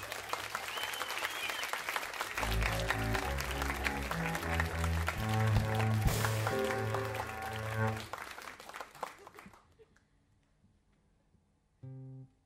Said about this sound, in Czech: Nebo ale o to väčší potlesk si teraz zaslúžiš.